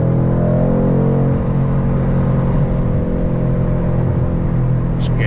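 A 500hp Mercedes AMG engine rumbles steadily as the car accelerates, a loud continuous low drone with a slight rise in revs and no talking.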